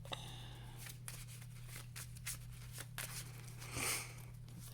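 A deck of playing cards being shuffled, with repeated crisp riffling bursts close to the microphone over a low steady hum, fairly quiet and without talk.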